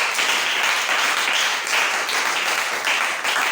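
Church congregation clapping in praise: dense, sustained applause from many hands, loud and even throughout, with no voices standing out.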